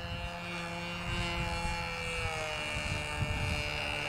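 A Tiger Moth model airplane engine runs steadily for the whole stretch with a droning, buzzing tone, loud and close, with no talking over it.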